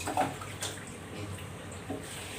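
Tap water running and splashing into a cooking pot while preparing coconut curry for rice noodles, a steady, soft, close pour with no talk.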